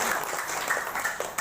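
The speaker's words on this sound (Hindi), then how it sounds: "फिर बजाइए ताली महाराज" Religious gathering audience clapping together in steady applause at a devotional event, a dense broadband patter heard close and continuous throughout with little else beneath it.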